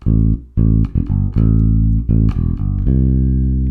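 Bass guitar playing an 80s-style synth bass line, a run of loud, close, punchy plucked notes in a bouncy rhythm, some short and some held, with the final note ringing out.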